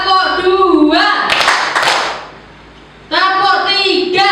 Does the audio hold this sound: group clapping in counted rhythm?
yes